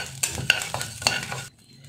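Urad dal and fenugreek seeds are stirred while roasting in a pan, with repeated scraping strokes and a light sizzle that cut off abruptly near the end.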